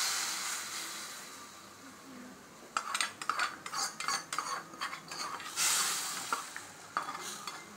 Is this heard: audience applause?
no